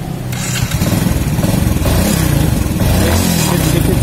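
A motorcycle engine, rusty and never washed, revs up hard and loud after its spark plug thread was repaired without removing the cylinder head, a steady close roar with rising and falling throttle pulses throughout.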